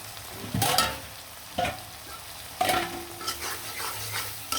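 Prawns fry in a pan for a prawn and taro-stem dish, with sharp spatula scrapes and clinks arriving in irregular bursts over a continuous low sizzle, close and fairly loud.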